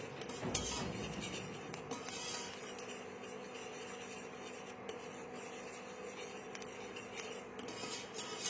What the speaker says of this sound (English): Whisk it constantly. This ensures that none of the cream is sticking to the bottom.